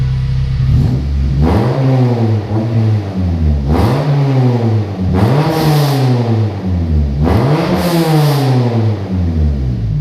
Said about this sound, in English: Oh, these are fucking loud. Couldn't even hear me, I bet.